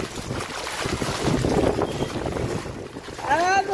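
Strong wind gusts roar during heavy rain in Dwarka, a steady broadband rush filling the whole stretch with blustery buffeting close to the microphone, and a brief rising squeal near the end.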